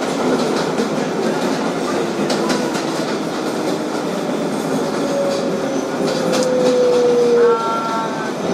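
A 2012 Kawasaki R-188 subway car on the New York 7 train rolls along with loud, steady rail rumble and clatter from inside the car, ending in a rising electric motor whine near the end.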